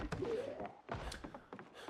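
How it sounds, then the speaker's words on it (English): Zombies banging on a door in Cataclysm DDA, several dull thuds in an irregular rhythm, fairly faint and muffled. "There's another door they're banging on somewhere."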